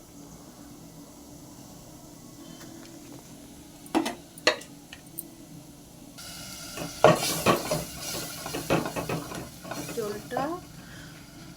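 Onions and spices fry in a pan for prawn curry: an ongoing sizzle broken by a few sharp utensil clanks, then louder scraping stirring and clatter against the pan, with a brief spoken word.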